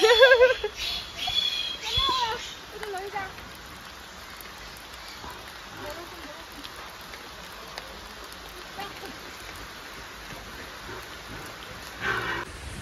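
Rain falls outside a village farm shed in a soft, steady wash of hiss. Voices and other small sounds come in near the start, and a few brief sounds break in toward the end.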